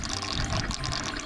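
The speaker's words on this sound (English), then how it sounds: "Here you can see the water coming down from the wash tub." Water pours steadily from a laundry wash tub down into a bucket below, an even, continuous splashing gush heard close up with no talking.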